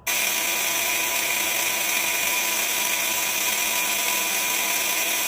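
Sharp hole saw grinding steadily through a half-inch-thick axle tube during a second-gen axle sleeve install, a loud continuous metallic whine and rasp that holds unbroken for several seconds with no talking.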